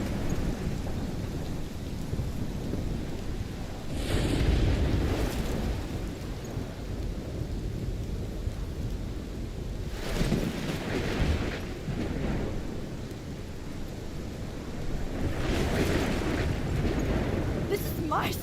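Thunderstorm in the video game Life is Strange, with continuous heavy rain and wind and several loud rolling thunder bursts spaced through, dense and fairly close, with no talk over it.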